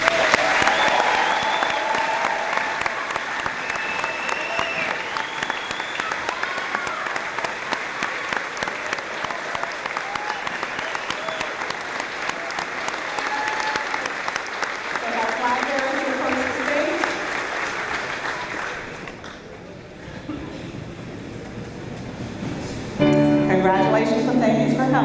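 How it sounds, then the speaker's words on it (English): Audience at the Stafford awards ceremony giving the graduating class a sustained, loud round of applause with crowd noise, fading briefly near the end before a final burst. "I think we owe this class a rounding round of applause."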